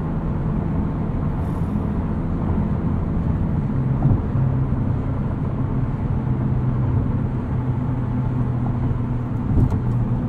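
A 2021 Porsche 911 Turbo S cruising in normal mode on the highway, heard from inside as a steady low engine and road drone with no speech.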